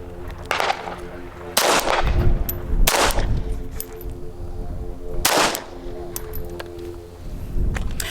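A .380 pistol fitted with a compensator fires at a shooting range, several sharp, loud shots spaced a second or more apart with short echoing tails between them.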